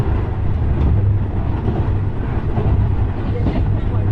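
A passenger train rolls along the railway just outside Nairobi, Kenya, giving a continuous loud low rumble and rattling rush from inside the carriage with no pauses.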